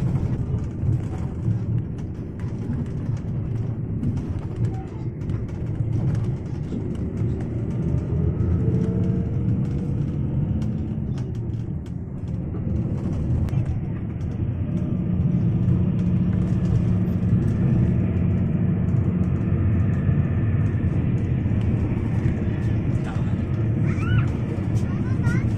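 Primajasa economy bus cruising along a busy toll road, a constant low engine and road rumble heard from inside the cabin, steady and loud for the whole stretch with a slight rise partway through.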